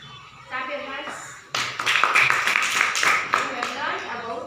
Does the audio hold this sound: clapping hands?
yes